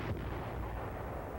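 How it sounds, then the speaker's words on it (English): Artillery fire from the 7th Division during a Korean War battle: a single heavy boom with a deep rumbling roll-off, loud and close. "they get protective fire from 7th Division artillery"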